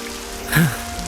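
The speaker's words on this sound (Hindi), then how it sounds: "बारिश भी हो रही है।" Heavy rain at night makes a steady, soft hiss, with a brief swell of a voice-like sound partway through.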